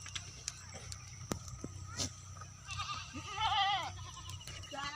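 A goat bleats near the middle, a wavering cry heard close by over rustling, light ticking and faint background voices in a rural village setting.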